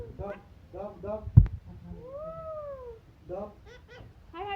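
A person imitates a cat, giving one drawn-out, rising-then-falling meow between bursts of speech, with a sharp knock just before it.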